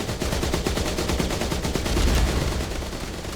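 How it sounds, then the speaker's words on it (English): Rapid machine-gun bursts ring out in the video game Age of Water, dense continuous rattling gunfire that is loud and close and fills the whole stretch, with no speech. "The machine guns don't really hurt me."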